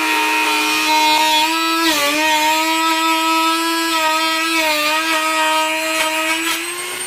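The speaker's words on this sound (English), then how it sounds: "Using a Dremel, it makes you a real steady hand." A Dremel rotary tool cutting into a plastic ammo box, its high motor whine steady and loud at close range, dipping slightly in pitch as it bites into the plastic, with no talking.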